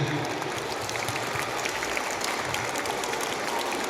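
Children clap together at a Kerala Piravi school celebration in the kindergarten section, a dense, even patter of applause that carries on throughout with faint voices beneath.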